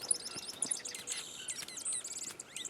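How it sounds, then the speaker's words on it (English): Two birds fighting on an off-grid homestead after a hard freeze give quick, high, scratchy chirps and squeaky calls in rapid bursts, fairly close and fairly quiet with no talk. "Two birds are fighting."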